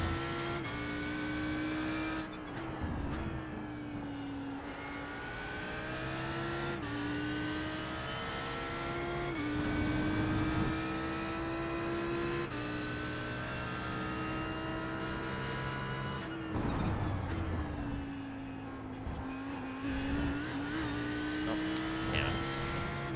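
Audi R8 LMS GT3 race cars lapping Donington Park, several engines droning loudly and continuously with rising and falling revs as cars pass, under steady crowd-level background noise and occasional talk.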